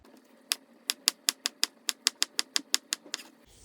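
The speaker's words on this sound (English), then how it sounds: "I'll leave this out and go cut up the seasoning" A knife chops seasoning on a cutting board for a Jamaican-style shrimp pasta, about fifteen crisp, evenly spaced strikes in a quick steady rhythm, close and clear, in an otherwise quiet kitchen.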